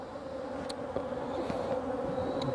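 Small honeybee swarm in Michigan hums with a steady, close buzzing drone that holds level throughout, with a few brief clicks and taps over it.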